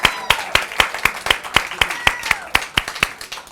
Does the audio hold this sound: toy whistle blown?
no